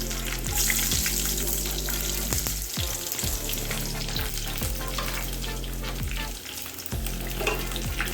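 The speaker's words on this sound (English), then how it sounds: "Add curry leaves, garlic, green chili," Curry leaves, garlic and green chili frying in hot oil after mustard seeds, a steady loud sizzle with repeated scraping stirs from a spoon in the pan, no talking.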